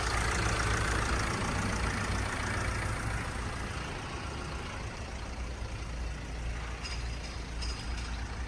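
A Mercedes-Benz Sprinter van's 2.1 litre turbo diesel idles in a steady, even drone, loud and close, with a couple of faint brief clicks near the end and no speech.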